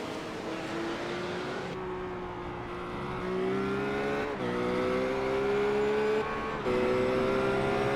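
Race car engines roar continuously in an iRacing Blancpain Endurance Series race, a loud, sustained drone rising in pitch through the gears, with several sharp upshifts and nearby cars battling in the pack.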